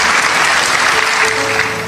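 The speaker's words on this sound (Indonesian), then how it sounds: "Saudara, tepuk tangan buat Tuhan." A church congregation claps for God in steady, dense applause that fills the room, loud and continuous from start to end, with a faint voice beneath it.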